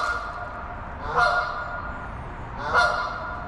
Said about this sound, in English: you're gonna see geese up there